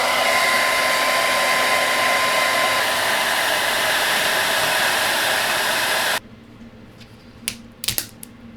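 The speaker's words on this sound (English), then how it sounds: "Because it's hot glue, we can use a hairdryer." A hairdryer blows loud and steady to soften hot glue on a resin cast, a broad rushing whoosh that cuts off abruptly, followed by a few faint clicks and knocks.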